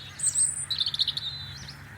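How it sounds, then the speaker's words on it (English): A robin sings from a tree in a garden on a frosty morning, a thin, high warbling phrase with quick trills, clear and fairly close against a quiet background. "A little robin just sitting in a tree in our garden, singing away, declaring its territory."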